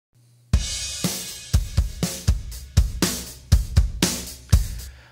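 Drum loop run through a free multi-mode compressor plugin set to FET-style compression with a lowered threshold, giving punchy, squashed hits; about a dozen loud transients in a steady groove with sustained tails, no talk.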